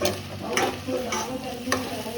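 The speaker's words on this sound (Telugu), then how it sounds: "ఇప్పుడు నువ్వులు వేసాక నువ్వులు వేసి ఒక 5 minutes ఫ్రై" Sesame seeds frying in a pan, a close steady sizzle punctuated by several crisp scraping strokes of a stirring spoon at regular intervals.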